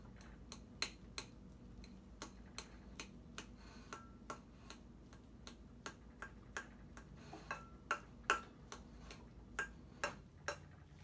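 A knife chops imitation crab meat on a cutting board in a steady run of quick, sharp taps, about two or three per second, faint and close with no voices.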